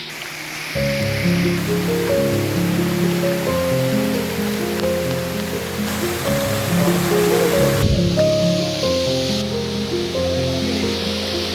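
The Napittachora trail waterfall at Mirsarai pours over large rocks in a steady, broad rush of water that runs throughout beneath a layer of music.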